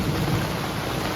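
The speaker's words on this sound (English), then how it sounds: "Thunderstorm going on right about now." Steady heavy rain pours during a thunderstorm at a state park campsite, with a low rumble of thunder underneath, loud and continuous with no talking.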